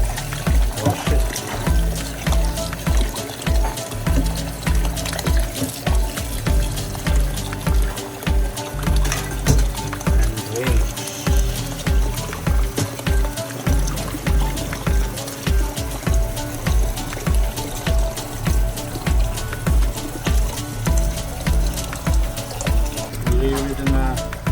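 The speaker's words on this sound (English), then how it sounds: "Wash it like 4 to 5 times until all the flakes are good and it smells good." Tapioca flakes are washed in water, with steady sloshing, trickling and pouring and a repeated rhythmic splashing throughout, close and fairly loud, with no talk.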